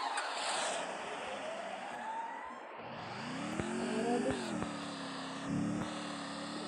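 Game engine drone of a motorbike being ridden in the video game Free Fire, a steady mid-level hum with rising and falling pitch as it speeds up, continuous throughout with no talk.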